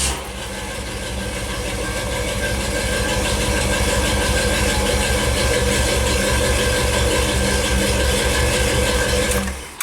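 A big block Chevy V8 in a 1955 Chevy idles steadily and loudly up close, with a deep, rough, truck-like rumble and a mechanical clatter running throughout, with no voices.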